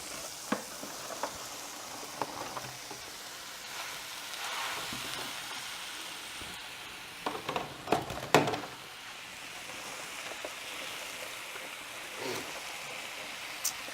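Spinach and mushrooms sauté with Marsala wine in a pan, a soft, steady sizzle with faint crackles, and occasional scrapes and stirring knocks as the greens get turned.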